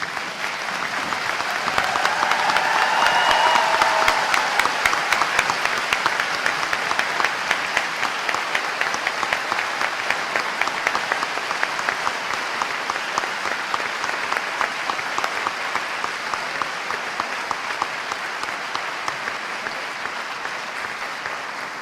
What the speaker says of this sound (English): Thank you for this long applause